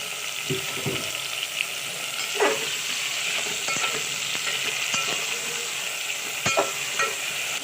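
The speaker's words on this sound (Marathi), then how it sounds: "हे पाच मिनटासाठी आपण वांगी आणि बटाटे फ्राय करून घेऊया" Eggplant and potato pieces fry in a pan with onion, giving a loud steady sizzle broken by several scraping stirs and clinks of a spoon against the pan.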